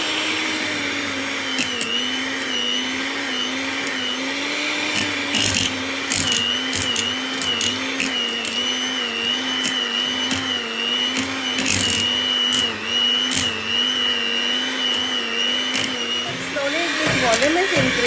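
An electric mixer beats an ice cream base with a steady, loud, continuous whir that runs throughout with slight wavering pitch, with someone talking faintly beneath the noise.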